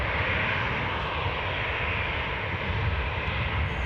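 Airplane engines droning steadily as aircraft taxi at Newcastle airport, a continuous broad roar at constant loudness with no voices.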